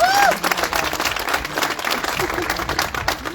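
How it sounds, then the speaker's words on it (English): Audience applause for Alicia at an empowerment center ribbon cutting, with a crowd clapping steadily at moderate loudness and a brief voice and murmur heard at the start. "let's give Alicia a big round of applause."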